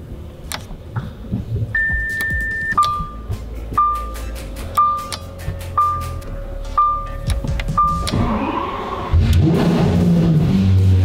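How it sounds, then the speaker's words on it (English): A Lamborghini SVJ sports car chimes through a series of dash warning tones, then its engine cranks and fires with a loud, close roar that settles into a rough idle. No one talks. "Fire it up and take it for a little spin."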